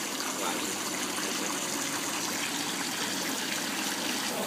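Water runs steadily from a water fountain, a constant close hiss and trickle throughout with no clear pauses.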